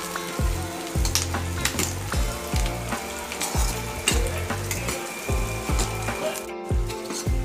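Onion frying slowly in a kadhai over a low gas flame, for dhaba-style kadhai paneer, makes a close, steady sizzle broken by regular scraping stirs.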